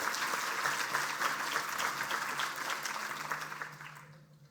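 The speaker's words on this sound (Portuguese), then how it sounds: "eu queria convidar vocês todos a uma salva de palmas à organização do Instituto Mises Brasil" Conference audience at the Austrian School event clapping steadily for the organizers, a dense sustained applause that gradually fades out toward the end, no talk over it.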